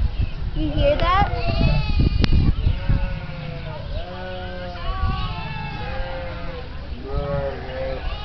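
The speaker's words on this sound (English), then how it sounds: "people are feeding their sheep. Do you hear that?" Sheep bleating while being fed on a farm, several wavering calls near and farther off, heard under someone talking close by.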